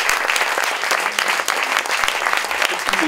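An audience applauds the actors after a stage reading, a steady, full round of clapping from a sizeable crowd heard without talk.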